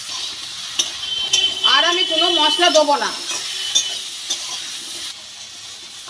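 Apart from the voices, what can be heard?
vegetables frying with turmeric and salt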